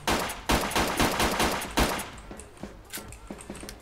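Rapid bursts of gunfire from a SCAR weapon in the video game WolfTeam, several quick volleys of sharp close shots, loud at first then thinning into scattered fainter shots.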